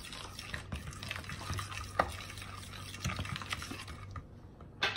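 Wet muffin batter ingredients, including cake batter extract, being mixed in a bowl: soft, continuous wet stirring and sloshing, faint and close, with no talking.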